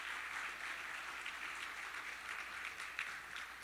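A room of people at a morning speaker event applauds the speakers, a steady patter of clapping for a few seconds.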